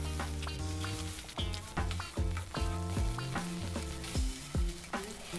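Shrimp, garlic and a cup of chopped onion fry together in a pan, a close, steady sizzle with stirring strokes beneath background music.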